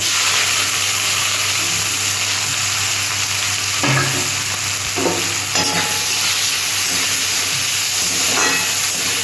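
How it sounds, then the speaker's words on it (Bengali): Onion frying in hot oil with a constant, loud sizzle and hiss, and occasional soft stirring scrapes mixed into the steady crackle. "পেঁয়াজটা আমি একটু হালকা করে ফ্রাই করে নেব"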